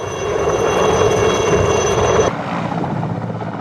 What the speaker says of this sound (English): The workhorses, especially for the far-flung outposts in the northeast, are the ubiquitous Mi-8 and the Mi-17 medium helicopters.